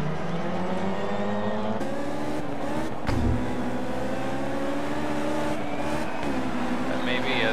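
Honda S2000 race cars in a tuner-class video game race, engines whining and revving at high pitch with gear shifts and a thump, a continuous loud drone as cars pass, with commentary talk over it.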